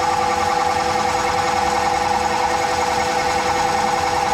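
An Okuma Crown lathe cuts aluminum dry without coolant, a steady, close whirring hum with a sustained tonal whine and no breaks over a few seconds.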